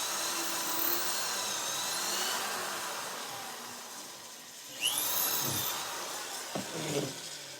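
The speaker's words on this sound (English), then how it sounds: "antler is fairly easy to drill" A small power drill with a 1/8-inch bit bores a pilot hole into soft antler, a thin steady whine at low volume with a couple of brief sharper catches near the end.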